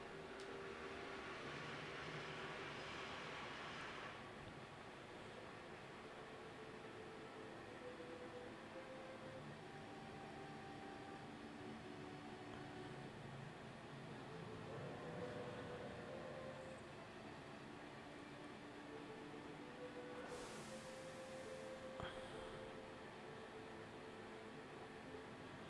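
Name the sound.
train riding on rails in Final Fantasy VII video game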